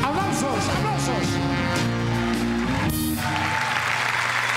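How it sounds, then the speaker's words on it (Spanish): Studio audience applause on a Mexican comedy TV show, clapping mixed under music and voices throughout. "¡Aplausos, aplausos!"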